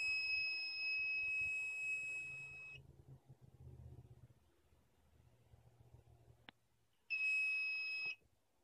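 A Fire-Lite BG-12L fire alarm sounds during a test: a loud, steady high-pitched alarm tone blares for a few seconds, stops, then sounds again in another short burst near the end.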